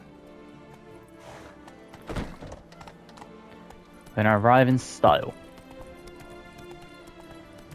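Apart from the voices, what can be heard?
horse galloping in video game The Witcher 3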